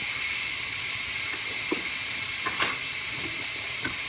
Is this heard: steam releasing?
yes